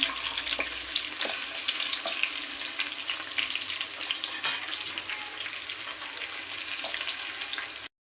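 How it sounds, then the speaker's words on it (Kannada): Chopped onions fry with cardamom and cumin in a hot pan, a bright continuous hiss and crackle with occasional stirring scrapes, close and steady until it cuts off abruptly. "ಇದನ್ನು ನಾನು ಇವಾಗ ಚೆನ್ನಾಗಿ ಫ್ರೈ ಮಾಡ್ಕೊತಿದ್ದೀನಿ"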